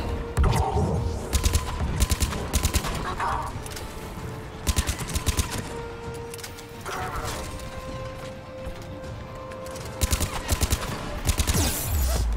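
Video game weapon fire in Mass Effect 3, repeated rapid bursts of gunshots in clustered volleys with mechanical clanks between them, loud and close, alongside background game ambience.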